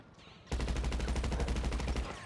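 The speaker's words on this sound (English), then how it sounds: "I decided to go back to shooting my special carbine on the regular" Special carbine gunfire in GTA 5: a sudden sustained automatic burst of evenly spaced rapid shots, about twenty in under two seconds, loud and steady after a brief quiet lead-in.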